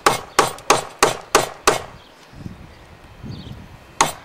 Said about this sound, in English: I'm going to just make a wedge cut with my chisel.